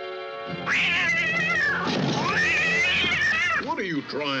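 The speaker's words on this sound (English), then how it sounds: "that cat caught me off guard" A cat meows loudly and insistently in a haunted-house film scene, long wavering yowls filling most of the clip, with a shorter falling meow at the end.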